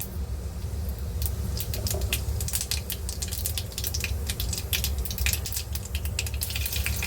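Mustard seeds and cumin sizzle and pop in hot oil, a steady loud fizz with scattered crackles and spits running throughout, no talking.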